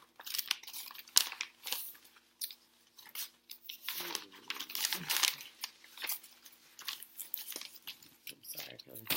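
A sheet of paper is handled and crinkled close by in uneven bursts of rustling and crumpling, with a voice speaking intermittently over it.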